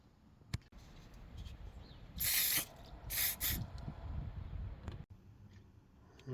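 A spray can lays down red base coat on a bass guitar prop in two short bursts of loud, close hissing, set between quieter handling noises and light clicks.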